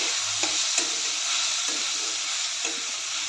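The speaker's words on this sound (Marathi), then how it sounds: "मी ह्यामध्येच सर्व मिक्स करून भाजून घेते" Sesame seeds, peanuts, garlic and ginger dry-roasting together in a pan, a steady broadband sizzle with a few soft stirring knocks, close and continuous with no talk.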